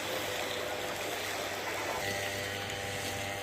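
Spring water wells up at the base of a huge mountain at Taq Bostan, a steady, dense rushing and gurgling that runs unbroken throughout.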